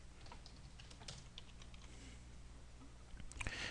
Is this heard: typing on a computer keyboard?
yes